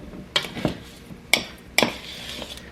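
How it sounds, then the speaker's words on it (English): A spoon scrapes and knocks against a bowl of chocolate strawberry cookie dough, giving three sharp clinks with softer scraping between them, close and fairly quiet, with no talk. "Scrape the spoon."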